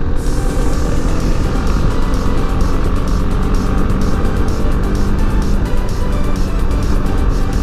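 A BMW G310 motorcycle rides the Asian Highway in Nepal in the evening, shortly after its first service, giving a steady, loud engine drone mixed with constant wind and road roar that never lets up, with no talking.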